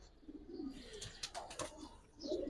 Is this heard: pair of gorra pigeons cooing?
yes